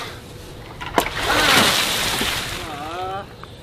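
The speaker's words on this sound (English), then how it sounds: "Water balloon fight." Water balloons burst and splash during a water balloon fight, with a sharp pop followed by a broad, sloshing rush of water that fades out, and a brief voice near the end.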